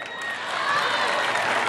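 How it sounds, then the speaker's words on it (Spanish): A concert audience clapping and cheering, a broad wash of applause from a large crowd swelling briefly. "¿Y dónde están las palmas,"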